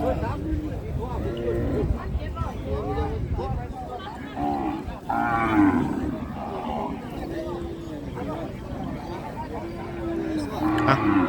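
Cattle moo repeatedly at an outdoor livestock market, several animals calling close by in overlapping bellows, with someone talking over a constant crowd murmur.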